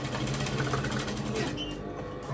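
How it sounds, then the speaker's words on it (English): A sewing machine back stitching the end of a weft on a kinky straight ponytail wig, a loud close continuous rapid whirring chatter that lightens briefly near the end. "so right at the end I'm gonna back stitch a little bit"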